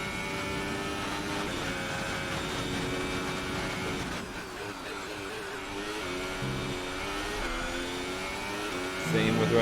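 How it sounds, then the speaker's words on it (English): An F1 car engine in F1 2018 at the Bahrain circuit, a high-pitched, sustained revving whine with rising and falling pitch as it shifts through gears, heard close and loud under a commentator's talk. "Using a lot of revs right there to help the car rotate."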